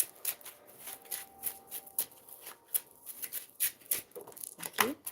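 Tarot cards shuffled by hand in a steady series of crisp riffling and slapping bursts, close and moderately quiet, with no voices.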